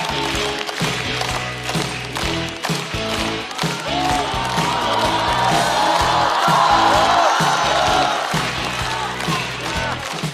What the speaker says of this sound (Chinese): 掌声欢迎孟川